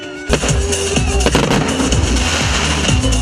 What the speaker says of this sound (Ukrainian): А в небі спалахнув святковий салют.